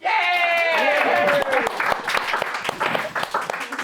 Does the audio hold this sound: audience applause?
yes